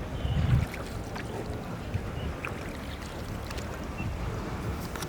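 Low rumbling drone of a boat motor on open water on the river at Dawki, Meghalaya, steady throughout with some wind buffeting the microphone.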